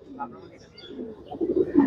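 A champion racing pigeon coos nearby in low throaty phrases that swell louder toward the end, with a voice talking briefly beneath.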